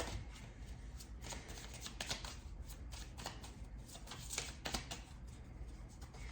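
Tarot cards shuffled briskly by hand, a steady dense riffling and slapping rustle with a few sharper flicks as some cards slip out and fall, close and continuous without talk.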